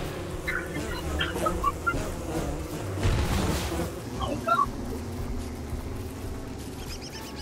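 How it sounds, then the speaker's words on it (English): A baby chicken from Don't Starve Together chirps and clucks in short bursts over a busy game soundscape of combat and ambient music. The bird calls are moderately clear and scattered through the mix. "Oh, there's like a baby chicken."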